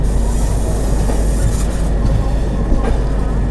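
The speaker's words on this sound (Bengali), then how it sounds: "আমাদের ট্রেন ঢুকে গেল" The Anga Express pulls into Bhubaneswar Junction as a loud, dense rumble of rolling carriages with clattering wheels. It is heard from on board and stays steady for several seconds.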